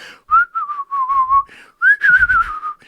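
A person whistles a wavering tune up close, in two phrases with a short pause between them and no talking.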